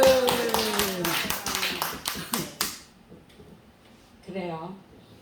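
A church congregation at a revival service claps in short bursts of sharp, fairly near claps for about three seconds, then the clapping stops and a brief voice is heard.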